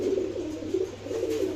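A pair of Kolshi Gola pigeons coo in a steady, low, throaty rhythm, close and moderately loud, with no voices over them.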